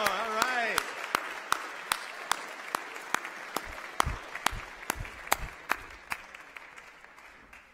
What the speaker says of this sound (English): Okay, you ready to start clapping again?